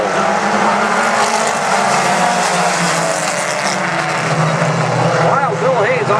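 Mini stock race cars roar off the line at the start of a heat race at South Sound Speedway, loud engines droning and rising together, with an announcer talking over them.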